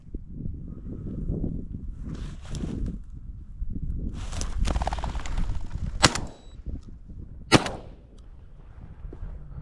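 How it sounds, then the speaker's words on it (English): Shotgun blasts at a bird during a hunt ring out outdoors, with two sharp loud reports a second or so apart, preceded by rustling movement through brush and grass. "You missed the first shot"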